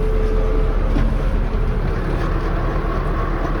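A tractor runs close by with a PTO-driven seed spreader throwing seed, producing a loud, steady engine drone mixed with broad rushing noise throughout, with no voices.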